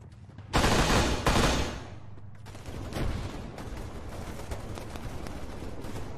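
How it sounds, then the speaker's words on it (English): Gunfire in the military video game Arma 3: two loud, close bursts of rapid fire at the start, followed by fainter, more distant shots rattling on beneath a rumbling ambience. "Hear gunshot, I'm just trying to figure out where that's coming from."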